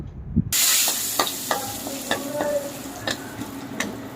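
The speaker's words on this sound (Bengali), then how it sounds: "তারপর 2টো তেজপাতাকে চিড়ে নিয়ে তেলের মধ্যে দিয়ে দেবো। এবার একটু হালকা করে ভালো করে নেড়ে চেড়ে নেব।" Two split bay leaves sizzle in hot oil with tempering spices in a pan, a bright frying hiss bursting in after a quiet start, with close scrapes and stirring clicks from a utensil; no talk.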